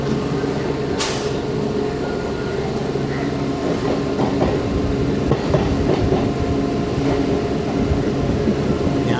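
A MEMU passenger train running on rails near Kadalundi bridge at dawn, heard from a second-class coach as a steady loud rumble with rhythmic clickety-clack of wheels over rail joints.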